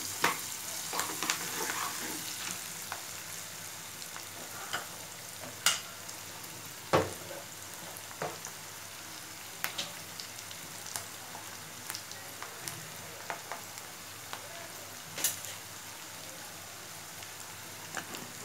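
Onions frying in a pan for creamy pasta make a steady close sizzle, broken by occasional sharp clicks and scrapes of stirring.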